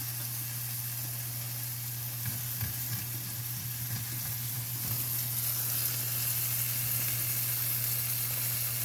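Cube steak sears in a hot pan with a steady, loud sizzle and frying hiss throughout, plus a low hum and a few brief scraping stirs near the middle.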